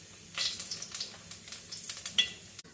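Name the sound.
ginger and garlic sizzling in oil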